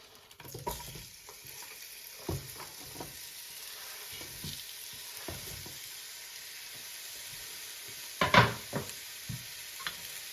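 Soft sizzling of onions frying in olive oil in a pan, with occasional stirring scrapes and a louder clatter near the end.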